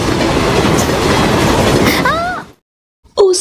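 Two trains pass each other at a railway crossing, giving a loud, close rumble and clatter of rolling wagons with a brief wheel squeal. The sound then cuts to silence before a short burst returns.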